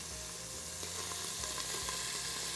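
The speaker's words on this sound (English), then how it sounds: "So we like to brown the meat in batches." Beef browning in batches in an Instant Pot Pro for beef stew, a dense, steady, close sizzle and crackle with faint stirring scrapes and no talking.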